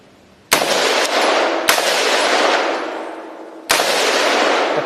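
A Colt M16 rifle fires at a propane tank outdoors: three sharp, loud reports, each followed by a long ringing echo that slowly fades.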